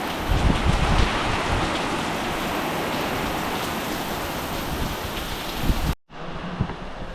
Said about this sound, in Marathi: पाऊस बघा किती जास्त आहे बघा इकडे